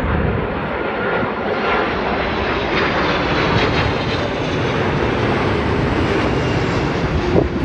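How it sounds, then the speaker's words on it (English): A Malaysia Airlines Airbus A330-300 arriving from Kuala Lumpur lands at Sydney Airport with a loud, close, continuous jet-engine roar that holds steady throughout. "This is a Malaysia Airlines A330 300 arriving from Kuala Lumpur."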